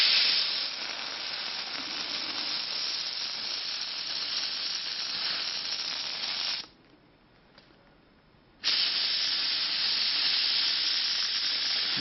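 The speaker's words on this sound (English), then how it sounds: "So we've got ourselves a steamer" A handheld steamer hisses steadily against the foam cushion of a modern upholstered chair, a loud continuous broadband rush that cuts out for about two seconds before resuming at full strength.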